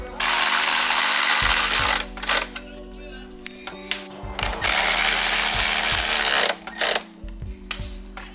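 A power drill whirs in loud, sustained bursts with brief pauses and clicks between them, starting and stopping several times close by, drilling holes in honeycomb carbon fiber car fenders.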